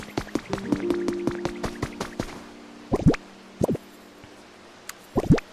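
Splashing and dripping water as a character falls in during the video game Pokopia, a quick run of plops and droplets over a tonal game melody, then a few scattered splashes, fairly close and clear.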